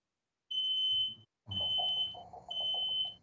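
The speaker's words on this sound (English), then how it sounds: "Can you hear that beeping? I think someone's burning down the house downstairs." A smoke alarm sets off, its shrill steady tone sounding in repeated bursts separated by brief gaps, heard alone and fairly loud indoors, with faint household rumble beneath.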